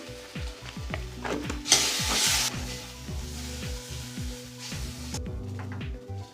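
Garlic paste, ginger paste, green chilli, chilli powder and turmeric sizzle in hot oil in a pan while being stirred, a steady close frying hiss broken by repeated scraping strokes of the spoon.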